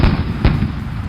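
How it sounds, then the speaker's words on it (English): A cannon fires and its shot explodes wide in the sand, a tabletop role-playing game sound effect: a loud opening boom, a second sharp blast about half a second later, then a rumbling noisy tail. "you fire away with the cannon, the shot going wide and awry as it explodes away from you, leaving smoke pluming all around"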